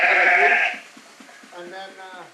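Sheep bleat in a farm barn, a loud close bleat at the start, followed by quieter bleating and the softer calls of a lamb, with barn noise in the background.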